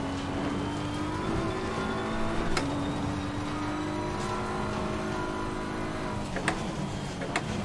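A race car in Assetto Corsa Competizione takes a wet chicane, its engine note holding a steady drone and shifting pitch as it brakes and accelerates, with a few sharp clicks of gear changes along the way.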